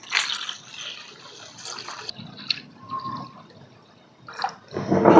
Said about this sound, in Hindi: 5 लीटर पानी मिला दिया